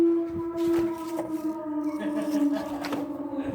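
A siren sounds as a steady, eerie wavering tone, fairly distant and sustained throughout, over faint background noise.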